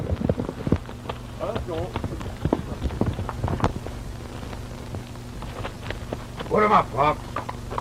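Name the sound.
horse hooves clip-clop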